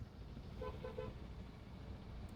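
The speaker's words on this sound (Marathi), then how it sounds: "गाड्या निघत आहेत बघा," A car horn gives a quick burst of about three short toots as vehicles roll off a ro-ro ferry, over a faint low engine and traffic rumble.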